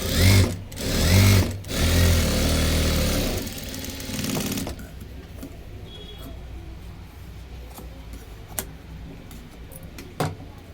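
A domestic sewing machine stitches a four-tuck blouse with straight backstitched seams, running loud and close in a few bursts at the start before stopping, leaving quiet room sound with faint handling taps.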